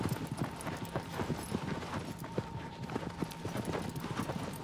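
Steady rhythmic clip-clop of horse hooves galloping in the Shadow of the Colossus video game, continuous and fairly close, with a faint tonal hum running underneath.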